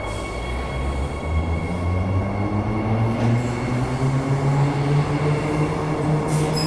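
A train rumbles steadily nearby, its low droning and rolling wheel noise continuous throughout with a faint high squeal near the end.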